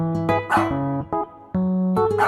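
A dog gives a few short, loud barks and yips in quick succession, close by.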